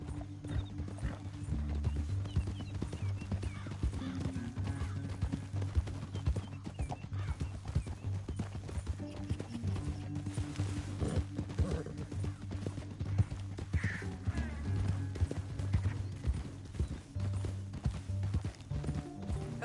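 Horse hooves clip-clop steadily through a Red Dead Redemption 2 canyon scene, a continuous trotting rhythm close by with an occasional whinny, while a low musical drone runs underneath.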